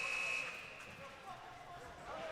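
A steady electronic end-of-game buzzer at a college ice hockey match between Rider and Niagara holds for about a second, sounding beneath continuous arena commentary and crowd noise.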